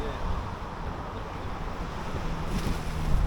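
Strong wind blows across an open causeway bridge in Jamaica while snook fishing, a steady loud rush of buffeting wind noise that swells toward the end.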